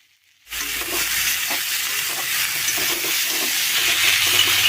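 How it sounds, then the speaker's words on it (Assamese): Onions and potatoes fry together in a pan without water, giving a steady, loud sizzle and crackle that starts abruptly after a brief silence and continues evenly throughout, with no voices. "পিঁয়াজখিনি ভাজি আছোঁ।"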